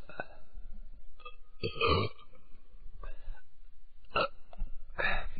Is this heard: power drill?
no